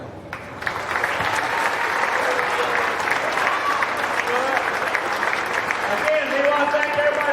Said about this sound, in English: Another big applause for exhibitors.